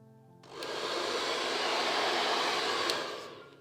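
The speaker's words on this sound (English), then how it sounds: "we come in with our hairdryer and then we push those fine hairs through the section" A hairdryer switches on and blows a loud, steady rushing stream of air at close range, used on sectioned hair for AirTouch balayage, then starts winding down at the end.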